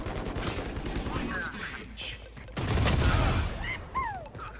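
Rapid gunfire bursts in the video game Valorant during a Team Deathmatch round, with rattling shots and sharp electronic effect sounds mixed with lively voices talking over the action.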